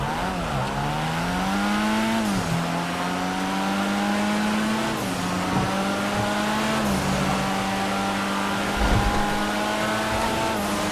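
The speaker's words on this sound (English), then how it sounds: "Let's hear how it sounds while driving." Video game Vapid Uranus Lozspeed car on the move, engine held at a steady drone that climbs through a few gear shifts, each one marked by a brief dip in pitch, loud and close without any talking.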